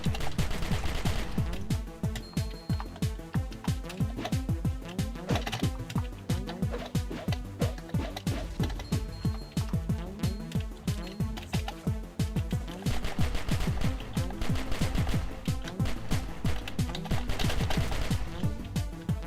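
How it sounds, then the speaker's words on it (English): A pistol in the Cally's Caves 3 game fires in a rapid, unbroken stream of sharp shots over driving game music, with someone talking now and then throughout. "that pistol fires literally as fast as you can move"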